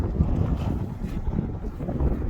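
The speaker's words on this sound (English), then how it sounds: "Excuse the wind, guys." Heavy wind buffets the microphone in a constant low rumble, gusting unevenly throughout with no voices.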